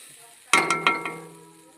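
Khesari lentils frying in a pan over a gas flame are stirred with a few sharp scraping strokes, each followed by a sustained sizzle that fades slowly; close and fairly loud, no talking.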